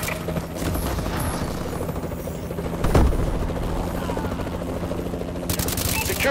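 A Warbird aircraft in the Call of Duty: Advanced Warfare video game hovers with a continuous rotor-like thrum, mixed with bursts of gunfire and combat noise throughout, peaking in a loud pass near the middle.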